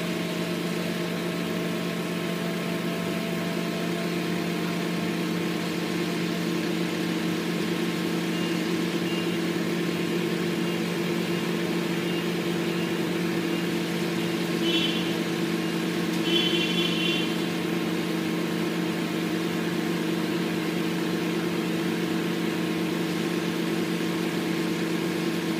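A 2009 Toyota Corolla with a 1.8 engine idles steadily and evenly close by for the whole stretch, a smooth low hum with no revving and no talking.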